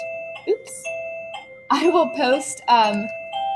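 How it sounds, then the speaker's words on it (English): A doorbell chimes again and again in short tonal bursts while a person talks close by between and over the rings. "my doorbell's going crazy"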